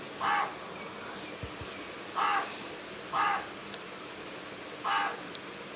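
A crow caws four times at uneven intervals, each call short and harsh, heard at moderate distance over a faint background hiss.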